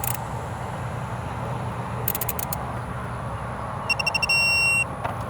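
A digital torque wrench set to 7 foot-pounds signals while bolts are tightened on a car, with a few short electronic beeps and then a quick burst of rapid beeps and a sustained tone over a steady background hum.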